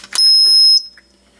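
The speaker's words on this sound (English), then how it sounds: "When you stick it in, it's going to beep." A dog training collar receiver gives one short, loud, high electronic beep as a battery is inserted, preceded by a small click, then silence.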